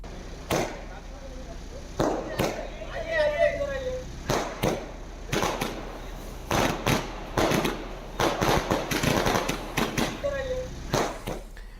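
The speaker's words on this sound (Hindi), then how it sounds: "रामानुजगंज चौक पर ये आतिशबाजी की गई है।" Fireworks set off by celebrating supporters at Ramanujganj Chowk: a rapid, irregular string of sharp firecracker bangs, loud and close, with whistling rockets in between and excited voices talking over the celebration.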